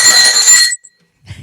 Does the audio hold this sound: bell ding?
yes